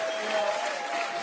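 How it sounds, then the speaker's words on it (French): Studio audience applause on the French talk show Quotidien, a short dense burst of clapping that holds at steady loudness throughout. "Un tonnerre d'applaudissements pour mes deux amis"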